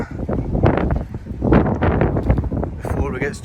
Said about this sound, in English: It's unbelievable wind today.